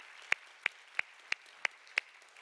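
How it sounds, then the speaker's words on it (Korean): A church congregation claps in unison during a Sunday service, six crisp, evenly spaced claps about a third of a second apart, fairly faint against a quiet room. "우리 하나님께 영광의 박수 한번 올리겠습니다"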